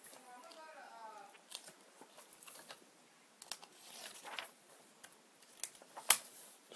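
Pages of a manga book are flipped one after another, making soft, quiet paper rustles and flicks in uneven bursts, with a short voice near the start.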